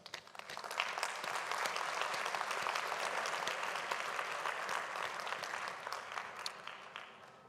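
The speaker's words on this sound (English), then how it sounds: "please join me in acknowledging their interventions in the usual way with a very warm round of applause" Sustained applause from a large audience at the Mondiacult 2022 cultural policy conference, steady and dense clapping throughout, with a faint voice briefly audible beneath it.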